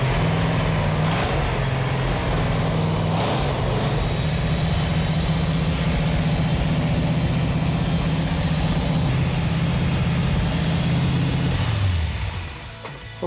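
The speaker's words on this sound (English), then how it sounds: "It feels really good to hear that engine run." A 1969 Dodge Super Bee with its original 440 Six Pack V8 idling steadily and loud, a lumpy low drone that holds for several seconds before the engine shuts off at the end.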